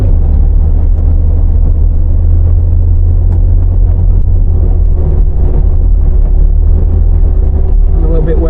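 A Ford Cortina Mk3 fitted with a new engine drives along a winding road, its engine a heavy, steady low rumble with road noise close in the cabin, and someone talks over it.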